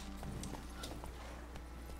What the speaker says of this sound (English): I gotta chase on my horse.